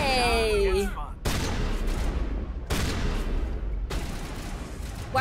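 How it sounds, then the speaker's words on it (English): Shotgun blasts in Mass Effect Legendary Edition: three or four heavy, spaced booms with ringing tails, loud and close, following a brief electronic whine. "How is a human gonna take four shotgun hits?"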